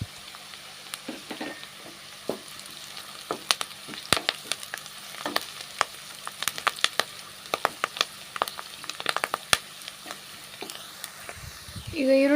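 Onions frying in oil until golden brown for chicken sukka, a steady crackling sizzle with frequent sharp pops and spatters, close up, with a brief stir or scrape at the end.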